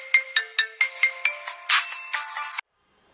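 A mobile phone ringtone plays a bright electronic melody of quick repeated notes, loud and close, then cuts off abruptly into silence.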